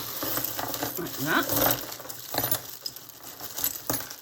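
Pieces of broken jewellery are handled at close range, giving a series of small metallic clinks and jangles, with a brief spoken phrase among them.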